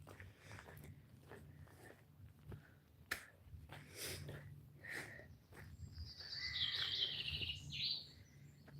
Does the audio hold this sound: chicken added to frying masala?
no